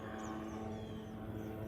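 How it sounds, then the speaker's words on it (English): A small propeller airplane passes overhead while landing near a lake and farm, a faint, steady distant drone that persists throughout. "Got an airplane landing."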